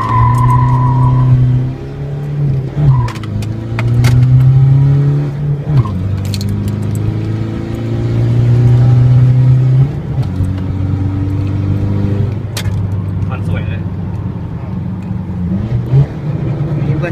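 Remapped Isuzu D-Max 2.5 ddi pickup engine revving up and down through repeated rising and falling pitch sweeps over a steady loud drone, close by, with occasional clicks and faint voices in the background.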